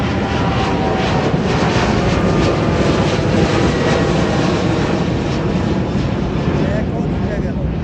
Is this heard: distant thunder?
no